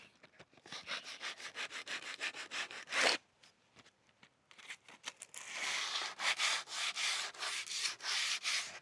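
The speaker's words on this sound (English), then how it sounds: "So I'm just going to sand this down with some 60 grit" Wood is sanded by hand with coarse 60-grit sandpaper on a slatted Scandinavian-style bench, making rhythmic close-up rasping strokes in quick back-and-forth bursts, with a short pause midway before faster, steadier sanding resumes.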